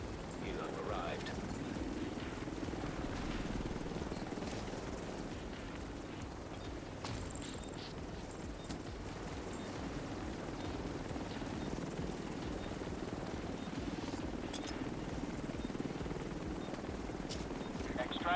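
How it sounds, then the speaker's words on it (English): Helicopter arriving to extract cargo in The Division 2 video game, a steady loud rotor drone running throughout with a dense low thrum and game sound effects layered over it. "Helo arrived."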